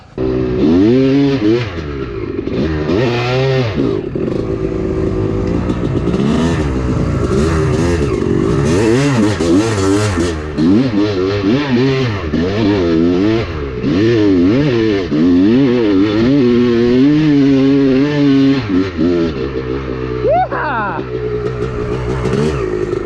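A Honda two-stroke dirt bike engine with no power valve screams and revs hard, rising and falling repeatedly through high RPM at close range, loud and continuous for the whole stretch.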